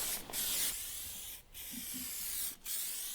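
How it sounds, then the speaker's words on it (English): A spray paint can sprays onto a car in three long, steady hissing bursts separated by brief pauses, close by with no talking. "Literally spray itself all over the front of your vehicle."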